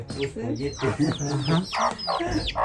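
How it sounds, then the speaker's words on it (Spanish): A mother hen with chicks clucks repeatedly in short, throaty bursts nearby, a run of rising calls with some faint background chatter. "hay, una gallina ahí que, tiene pollitos."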